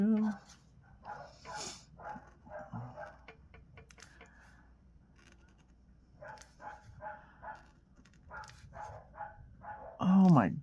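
Neighbouring dogs barking outdoors, a few muffled barks scattered through the clip at a moderate distance, with someone talking over much of it.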